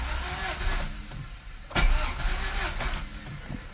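A Honda Civic EF sedan engine cranks over with its fuel injectors unplugged, a rhythmic starter whir close by that doesn't catch, after a sharp click.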